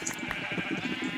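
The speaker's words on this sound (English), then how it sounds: "here we have some sheep" Sheep bleating on a farm in a video game, a couple of short wavering bleats heard close and clear with no talking.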